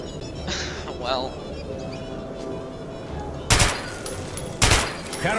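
Two sharp, loud gunshots ring out late in the clip, about a second apart, over steady background game noise and faint chatter, in the video game Metro 2033 Redux.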